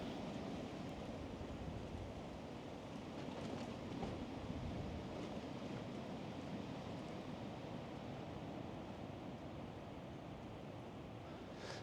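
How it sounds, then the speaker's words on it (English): Wind gusts across an open campsite in a continuous rushing roar, swelling slightly in the middle and staying loud and close throughout, with no talking. "Here comes another gust."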